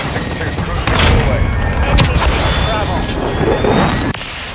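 An airstrike in Modern Warfare 3 multiplayer: heavy, continuous booming explosions and gunfire roar loudly throughout, with jet noise and shouted voices mixed in.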